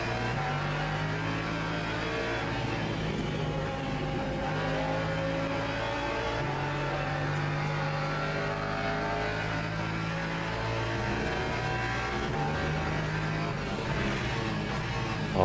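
LMP2 prototype race car engines in the sim racing game Le Mans Ultimate, a steady droning whine with shifting revs as cars run close together, continuous and loud throughout.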